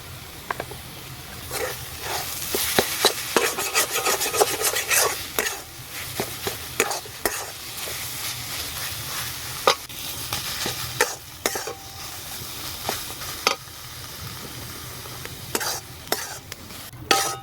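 A spoon stirs pointed gourd (potol) bhorta mash in a hot pan, a steady run of scraping strokes over a soft, continuous sizzle, close and clear with no talk.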